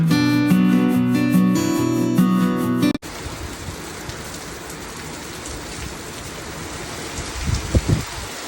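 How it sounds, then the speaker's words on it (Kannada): Steady rain falls on surfaces outside a home, a dense continuous hiss that takes over after an abrupt cut from music, with a few louder low thumps near the end. "ನೋಡ್ತಾ ನೋಡ್ತಾ ಮಳೆ ಕೂಡ ಶುರುವಾಯಿತು."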